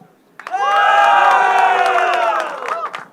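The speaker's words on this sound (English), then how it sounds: "Let's hear how loud you can cheer." A conference audience at React India 2023 erupts into loud cheering and whooping, sustained shouts from many voices swelling quickly and holding for a few seconds before tapering off.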